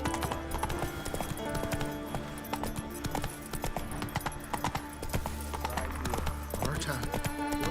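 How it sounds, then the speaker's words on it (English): Hooves of the horse Roach clip-clop at a gallop in The Witcher 3, a steady rapid beat running throughout under game music and intermittent character voices. "Not so fast, Roach"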